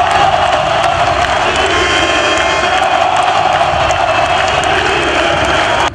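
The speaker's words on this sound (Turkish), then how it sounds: "Aziz Yıldırım kendisine destek verenleri ayakta alkışlarken" A dense crowd of football supporters cheers, shouts and claps continuously at full volume, a steady roaring wall of voices and applause throughout.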